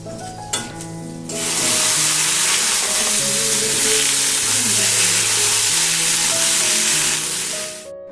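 Chunks of pumpkin, potato and pointed gourd drop into hot oil in a wok for a curry and break into a loud, steady sizzle that holds for several seconds, with a musical tone running underneath.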